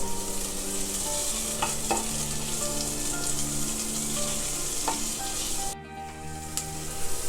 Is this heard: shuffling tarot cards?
no